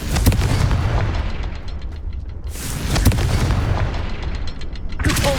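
Fiery blasts from the Confringo explosion spell in Hogwarts Legacy, a run of loud booming bursts with crackling impacts, one surging around the middle and another near the end, with no talk.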